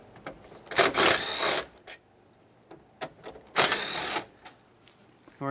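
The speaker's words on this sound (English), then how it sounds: "So we're going to take our T20 screws out." A power driver backs T20 screws out of a Ford F-150 headlight switch in two loud whirring bursts, each about a second long, separated by quiet, with small clicks and handling noises between them.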